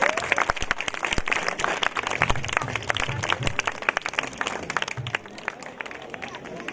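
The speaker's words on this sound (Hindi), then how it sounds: "तालियां आपकी बजती रहनी चाहिए।" Audience applause at a death anniversary gathering with a medical camp and prize distribution, steady and dense clapping from a crowd, with a murmur of voices underneath throughout.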